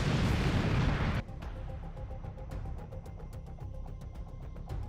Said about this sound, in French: les Ukrainiens lancent une attaque puissante avec une bombe guidée JDAM